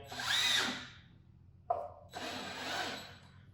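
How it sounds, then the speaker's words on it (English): A power drill driving EverClip hidden deck fasteners back down into deck boards, two short whirring bursts separated by a brief pause and a sharp click, close and clear with no talk. "You can go back in and button these fasteners back down."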